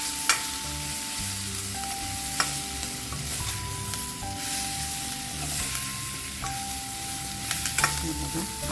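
Spoon stirring masala seasoned with chilli powder and garam masala in a frying pan, a steady close sizzle with repeated scraping strokes and occasional sharp clinks, while steady tonal hums run underneath.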